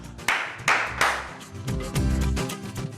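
Someone claps his hands to summon Pari indoors in a family home, giving a few sharp, close claps at the start, followed by a dense mix of background sounds and music.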